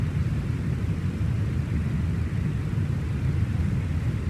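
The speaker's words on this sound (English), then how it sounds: "That sound that bothers me in real life, jet cockpit, is the recirculating fan noise" Recirculating fan noise fills an MD80 jet cockpit in MSFS 2020, a steady low whooshing hum with constant broadband air rush and no change throughout.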